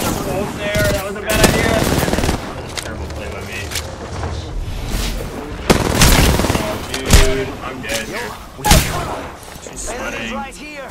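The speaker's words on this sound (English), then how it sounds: "Opening fire." Gunfire in the video game Apex Legends: repeated loud bursts and rapid automatic shots crackle through a busy battle mix, with players talking over the action.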